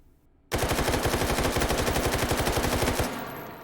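An AKS-74U carbine fitted with a muzzle brake firing a single continuous full-auto burst of about two and a half seconds in the H3VR video game, loud and rapid, with a brief echoing tail.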